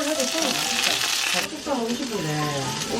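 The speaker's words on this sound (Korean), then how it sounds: "지글지글." Steady, close sizzling of food frying in a pan, with a continuous crackling hiss throughout.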